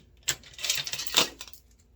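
A small bunch of metal keys jingles and clinks in a few quick bursts, close by, with brief rattles and then settling quiet.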